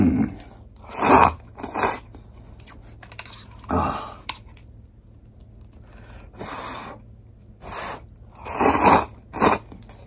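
Someone eating negi-shio Chicken Ramen instant noodles close to the microphone, with several loud crunchy chewing and biting bursts separated by quiet pauses.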